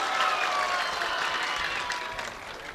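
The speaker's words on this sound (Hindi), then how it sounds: "आप लोग एक बार जोरदार ताली बजाइए इसके लिए" Enthusiastic applause from a crowd at an Indian mushaira poetry gathering in Mubarakpur, steady and fairly loud throughout, tapering slightly toward the end.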